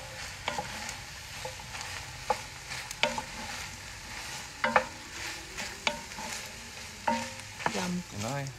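Mushrooms and onions frying in butter sizzle softly and steadily, and a utensil scrapes and clicks against the pan in regular bursts every second or so, all close by and without talk.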